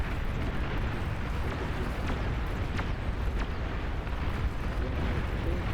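Rumbling barrage of bombing explosions in the strategy game Beyond All Reason, a dense continuous roar of overlapping blasts with a few sharper cracks, loud and without talk.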